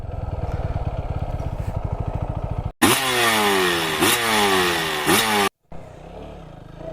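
Motorcycle climbing a steep, rough hill road in the Sukhiya Valley, Lama, its engine pulsing at low revs, then roaring loudly with repeated revving surges before cutting out briefly and idling lower.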